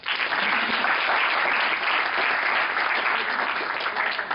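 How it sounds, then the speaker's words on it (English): Dense, steady clapping from an audience at an ACCA award ceremony in Kuwait fills the whole stretch, loud and even, with no voices rising above it. "A little bit more clapping, please."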